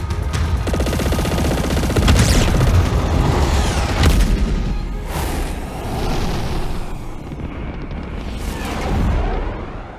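Spaceship weapons fire and explosions in the space combat game Chorus, a dense barrage of rapid shots and heavy booming blasts that swell and fade in waves, loud and close with no voices.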